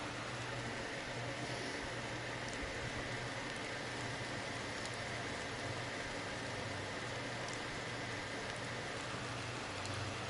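Steady rain falls in the video game Honkai: Star Rail, a dense, even hiss of drizzle with a faint low hum underneath, continuous and without voices.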